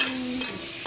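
Pork sautéing in a pan while cooking a Filipino dish, a steady close sizzle and frying hiss with a brief faint tone at the start and a stir sound near the end, all within under a second.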